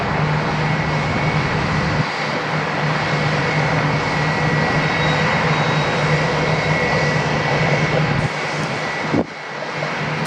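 A 23-year-old Delta Airbus jet at Atlanta airport gives a steady, loud engine roar that holds throughout, with a sustained low hum and a brief dip near the end.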